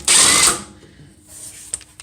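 An impact wrench with a 19mm socket on a suspension nut of a 1991 Toyota MR2 gives one loud half-second burst of whirring, then trails off into quiet shop noise with a brief click near the end.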